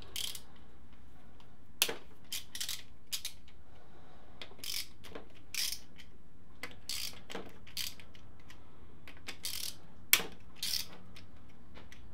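Ratchet undoing engine cover bolts on a Suzuki Bandit motorcycle, bursts of quick metallic clicking spaced through the clip, with occasional sharper knocks between them.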